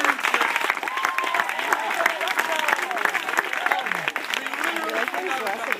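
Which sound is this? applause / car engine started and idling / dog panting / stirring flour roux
applause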